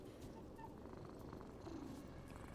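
Cat purring in the video game Dragon Age: The Veilguard, a soft, continuous rumbling purr that stays quiet and even throughout.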